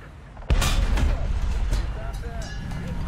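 A Soviet infantry fighting vehicle's gun fires in a tank combat game, one sharp heavy report followed by a rumbling tail and lower-level battle noise, with a voice talking over it.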